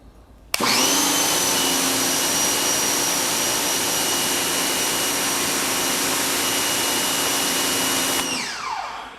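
A HART 1800 psi electric pressure washer sprays through a 15-degree nozzle, a loud steady whine and hiss that starts abruptly, holds for about eight seconds without people talking, then cuts off and spins down.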